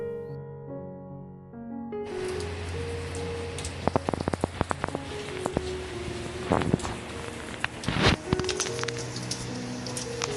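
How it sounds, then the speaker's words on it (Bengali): Heavy afternoon rain in the UK starts suddenly, a dense steady downpour with sharp drops and splashes striking nearby surfaces, while a faint tonal hum lingers underneath. "বিকেলবেলা ঘুম থেকে উঠে দেখি তুমুল বৃষ্টি শুরু হয়ে গেছে"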